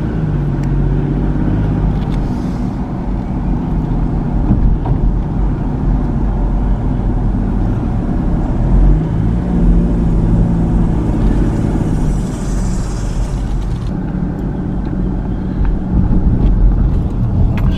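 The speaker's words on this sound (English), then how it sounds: "Just driving to a few of the neighborhoods near downtown." A car rolls through small-town streets in the rural Mississippi Delta, its engine rumble and road noise loud and steady throughout with light wind buffeting and no talking.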